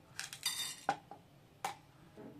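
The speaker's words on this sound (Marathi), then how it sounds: "ह्या छोट्या चमच्याने मी दोन चमचे हरभऱ्याची डाळ घेणार आहे" Small spoon scooping chana dal and tapping against a pan for bisi bele bath masala, a few faint, quick metallic clinks and a soft rattle of dal.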